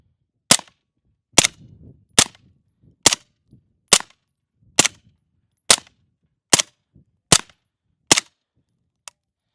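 A suppressed MP5K submachine gun fires ten single shots at steady intervals of roughly a second, each a sharp, loud, close crack, with faint clatter and handling noise between shots.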